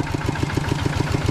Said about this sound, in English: you'll spin, turn it until it gets going and it starts to, the motor starts up